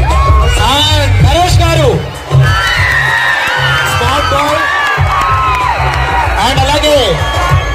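Crowd at a temple Brahmotsavam festival cheering and whooping continuously under a loud announcer's voice over a PA, with a brief dip before the cheering resumes.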